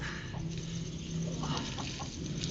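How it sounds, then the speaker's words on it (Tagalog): Pigeons being fed grain, a flock of birds making low cooing and fluttery calls with light pecking and shuffling, close and continuous, with no speech. "Yan po yung mga kalapati ko."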